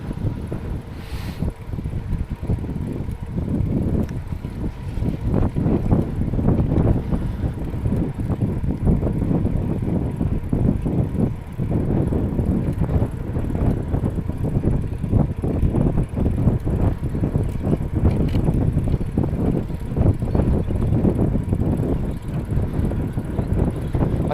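Steady wind blowing outdoors on a farm, a continuous loud roar buffeting the microphone throughout with no pauses.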